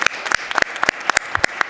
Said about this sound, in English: clap it up for Kendra